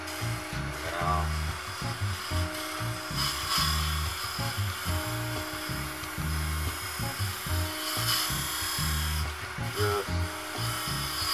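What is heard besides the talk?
hollowing tool cutting wood segmented bowl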